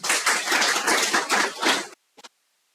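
A classroom of students breaks into applause, a dense burst of many hands clapping for about two seconds, then it stops abruptly and a couple of faint stray claps follow.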